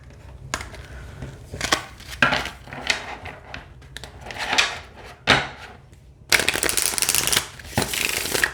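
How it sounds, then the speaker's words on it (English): Close, crisp riffles and flutters of a deck of cards being shuffled repeatedly, bursts of rapid flicking separated by short taps and pauses. "no issues with shuffling at all"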